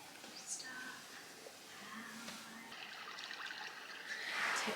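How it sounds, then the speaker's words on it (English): A white noise machine in a newborn's room plays a running-water sound, a soft, continuous trickling hiss heard faintly, with a quiet voice now and then. "if you can hear it, we have it on like running water"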